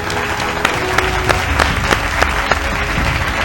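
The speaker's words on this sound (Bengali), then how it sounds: "জোরে হাততালি একবার তাদের জন্য।" A studio audience on an agricultural TV quiz show applauds the winning team, Asha Farmers Club of Udaynarayanpur, Howrah, with loud, dense, sustained clapping and a few sharper individual claps standing out throughout.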